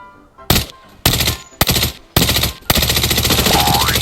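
Automatic rifle gunfire in the shooter game Arena Breakout: several loud close bursts of rapid shots separated by brief pauses, ending in a long sustained volley.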